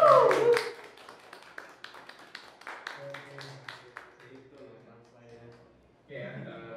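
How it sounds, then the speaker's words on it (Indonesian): Scattered hand claps from a small audience at the close of a campus panel talk, a quick run of sharp claps that thins out, with voices talking over and after it. "oke tepuk tangan dulu"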